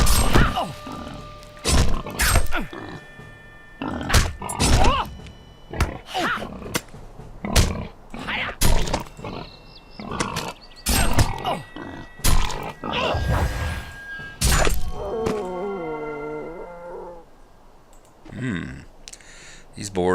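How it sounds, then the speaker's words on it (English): Wild boars in the game LOTRO let out repeated loud roars and grunts with clicks in between, close and prominent, across the whole stretch, with someone talking over them at times. "These boars seem a little bit wilder than the ones up the hill."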